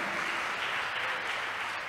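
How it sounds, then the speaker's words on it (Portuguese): A congregation gives a round of applause, a short, steady, fairly faint patter of clapping hands. "Eu acho que merecia uma salva de palmas"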